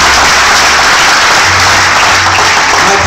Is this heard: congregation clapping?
yes